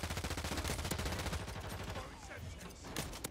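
Rapid automatic gunfire in the Warzone video game rattles in a fast, steady stream of loud shots, then thins into scattered distant pops.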